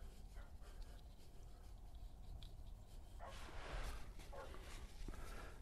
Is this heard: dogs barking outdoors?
yes